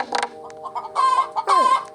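A chicken in the Roblox video game clucks and squawks in a quick series of calls, close and fairly loud, with no voices over it.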